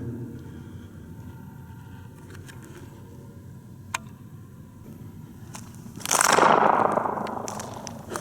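A paint can cap strikes concrete inside a concrete dome, a single loud crack followed by a long, booming echo that decays over a couple of seconds, after quieter ambient room tone and a faint earlier tap.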